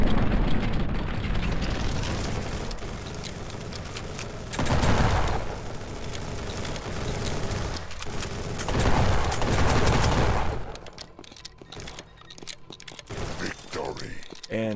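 Sentry guns in the zombie shooter Ultimate Zombie Defense fire in sustained loud bursts, dense rattling volleys mixed with booming impacts that swell and ebb over the stretch before thinning into scattered mechanical clicks.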